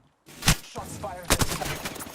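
Gunfire in the video game Apex Legends, a few sharp close shots in quick succession over a busy background of game noise, with a voice faintly present.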